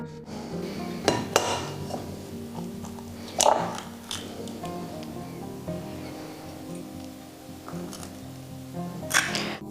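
Four eggs are cracked one by one into a small plate, giving several sharp, close taps and cracks with soft clinks of shell and plate between them, spaced irregularly over a quiet kitchen background.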